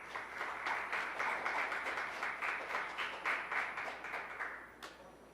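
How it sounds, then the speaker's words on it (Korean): An audience at a Korean economics association conference gives steady, rhythmic applause to welcome the president for his opening address. It is moderately loud, many hands clap together, and it fades near the end. "큰 박수로 환영해 주시기 바랍니다"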